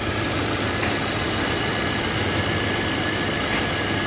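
Steady, dense engine hum of a 2022 Ford Territory idling with a constant vibration, continuous and unchanging throughout with no talk.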